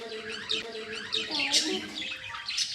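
Birds kept in a hospital aviary chirp and tweet in repeated bright bursts, fairly close, with a background wash like running water and people talking nearby.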